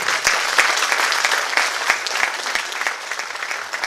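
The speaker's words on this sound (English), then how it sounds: "let's give us a big applause for Madhu" Applause for Madhu, longtime face of the Asian Heritage Society, fills a cultural gala: a lively crowd claps steadily for a few seconds, with individual sharp claps standing out near the front.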